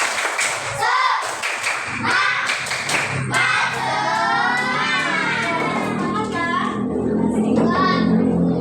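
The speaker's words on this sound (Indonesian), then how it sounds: "Oke, 1, 2, 3, tepuk semangat." Third-grade children in an Indonesian elementary classroom chant a 'tepuk semangat' clapping cheer together in a lively rhythm, punctuated by bursts of claps and thumps, their voices loud and close throughout.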